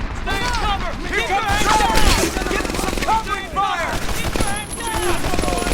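Rapid submachine gun and rifle fire crackles through a World War II shooter, Medal of Honor Airborne, with bursts overlapping dense battle noise and a voice talking over it throughout.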